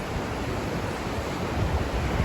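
Takkakaw Falls in Yoho, Canada roars as a loud, steady, broadband rush of heavy falling water, constant and close with no pauses and no voices.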